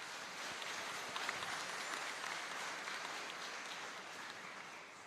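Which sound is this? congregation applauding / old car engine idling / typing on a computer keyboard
congregation applauding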